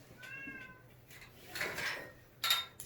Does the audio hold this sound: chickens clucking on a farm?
no